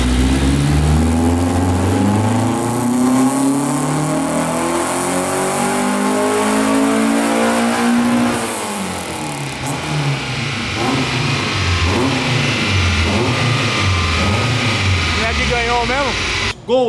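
A naturally aspirated 2.0 VW Gol with individual throttle intakes roars loudly nearby, revving up and down through repeated rising and falling sweeps and holding high rpm, with voices partly beneath it.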